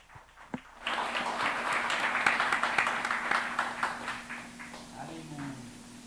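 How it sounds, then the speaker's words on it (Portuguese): A church congregation applauds together, a broad burst of clapping that starts abruptly and holds steady for several seconds while a voice talks over it. "Em nome de Jesus, aplaudamos o Deus vivo"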